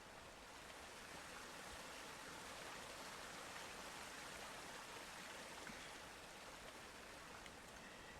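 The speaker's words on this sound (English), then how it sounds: "these waterfalls have their own sound" Waterfall in the Conan Exiles Age of Sorcery video game: a constant, even rush of falling water, broadband and steady with no breaks and no voices.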